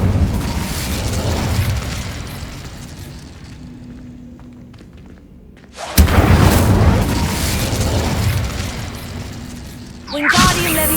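A fiery Incendio spell blast in the video game Hogwarts Legacy, a loud booming burst at about six seconds that rolls on, preceded by a dense rumbling battle bed and followed by another sharp hit near the end.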